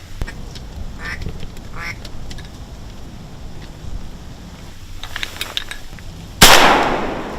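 A single loud shotgun blast rings out near the end during a duck hunt over open water, following a stretch of quiet outdoor ambience with faint duck quacks and calls.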